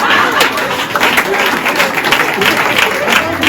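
A church congregation applauds with steady, dense clapping from many hands, evenly sustained and fairly loud throughout the brief moment.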